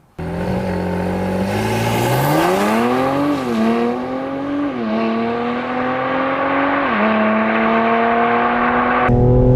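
A tuned 2020 Mercedes-AMG C43 coupe engine, about 460 horsepower on race gas, revs hard and climbs through several gears, each shift dipping the pitch before it rises again, loud and close.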